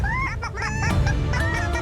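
A man imitates a chicken, his voice rising and falling in quick, squawky clucking bursts up close, with no other sound around it.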